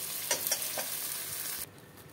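Cooked spiced mutton in oil being scraped into a pressure cooker, a close sizzling hiss with a few soft stirring scrapes, cutting off abruptly near the end.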